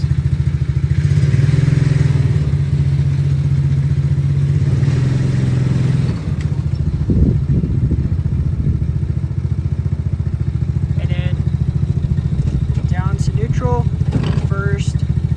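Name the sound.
mini Jeep engine revving as it drives through the gears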